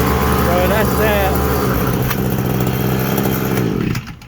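A weed eater's small two-stroke engine runs loudly and close by outdoors, a buzzing rasp that holds steady before cutting off near the end, with a voice briefly over it early on.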